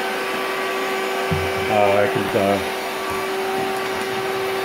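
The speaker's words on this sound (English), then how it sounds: "So you see how I use a vacuum here." Vacuum cleaner sucking up cockroaches during apartment pest treatment, a steady motor whine running throughout with a person speaking briefly over it in the middle.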